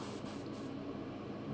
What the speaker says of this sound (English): Trying to keep the airbrush horizontal, you know, lined where I'm spraying